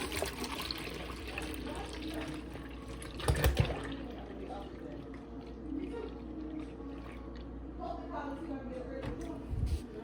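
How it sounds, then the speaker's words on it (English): Milk pouring into a container in a soft, trickling stream, with a brief louder gush partway through and light background noise. "I'm about to pour some milk in here."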